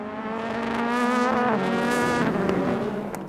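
Porsche race car on track at the 6 Hours of Bahrain, a loud, close high-revving engine whine that rises and shifts pitch through gear changes, with faint tire noise and no talking.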